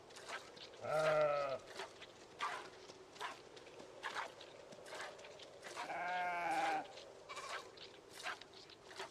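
Sheep in the survival video game Project Zomboid bleat twice, each a loud, wavering cry of about a second, separated by several seconds of quiet ambient game background and faint footsteps.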